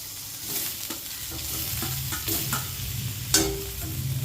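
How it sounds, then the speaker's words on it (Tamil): Onions and then tomatoes sauté in a pan for Madurai-style tomato chutney, a steady close sizzle broken by scraping stirs of a spoon against the pan, with one sharper clack, and no speech. "இது கொஞ்சம் வதங்கின வச்சு தான் தக்காளி போடணும்"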